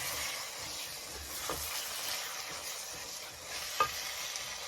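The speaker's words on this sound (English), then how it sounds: "we're gonna cook this with the onions and garlic so it's thoroughly cooked" Ground meat fries with onions and garlic in a pan for lasagna, giving a steady, close hiss of sizzling with a few soft stirring scrapes and a small pop.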